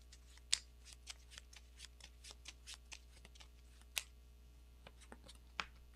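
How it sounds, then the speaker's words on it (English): Playing cards are shuffled back into a deck during a card game: a quiet, close run of crisp riffling flicks and snaps, irregular with a few sharper clicks, and no voices. "we're going to shuffle a Muster Courage back in so we can keep getting those"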